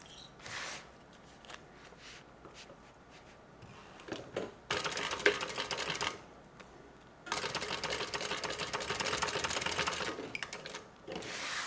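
A sewing machine stitches a bag handle onto a tote, running in two clear bursts of rapid mechanical clatter separated by quiet pauses, close and steady.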